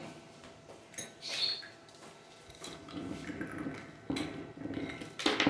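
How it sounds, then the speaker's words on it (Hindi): Ice cubes clatter into a jug of watermelon sharbat, a few separate clinks and knocks of ice against the container, close and fairly quiet. "अभी इसमें बर्फ़ के क्यूब डालेंगे"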